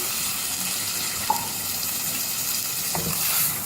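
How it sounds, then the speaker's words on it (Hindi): Half a cup of water is poured into a simmering mutton and apple gourd curry, a quiet, steady liquid pour with a soft splash, set against faint kitchen background noise. "½ कप पानी शामिल करेंगे"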